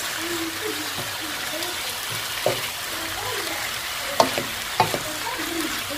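Courgettes cooking in a pan in their own juices with no added water: a soft, steady sizzle and bubbling with a few sharp pops and clicks, heard close under a speaking voice.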